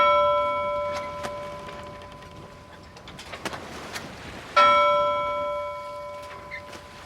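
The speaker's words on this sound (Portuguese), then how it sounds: "O sino dos mortos tocou pouco depois do amanhecer." A church death knell rings at dawn, with two separate strikes that each hum and slowly fade, while birds coo and chirp softly in the background.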